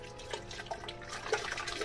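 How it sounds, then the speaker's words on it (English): Water poured into a blender holding leftover leek and potato soup, a soft continuous splashing trickle with faint gurgles, fairly quiet and alone. "I'm gonna pour some water in my blender"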